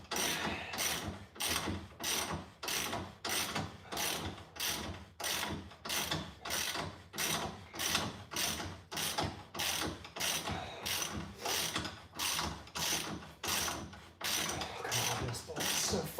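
Ratchet wrench cranking a long bolt on a Nissan Z in a garage, a steady run of rapid, even clicking strokes, close and continuous with no talk.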